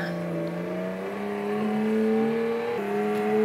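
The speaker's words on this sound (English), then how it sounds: "an augmented reality game in which a player can drive a virtual car around the room" Engine of a virtual car driven around a room in an augmented reality game with a steering wheel, a steady mid-loud hum with slowly rising revs and a small drop near the end.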